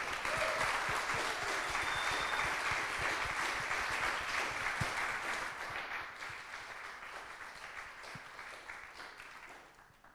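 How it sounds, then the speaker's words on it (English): An audience at a university short film festival awards ceremony applauds the filmmakers with sustained, full clapping that gradually thins and fades over about ten seconds. "please join us in a round of applause for our filmmakers who were"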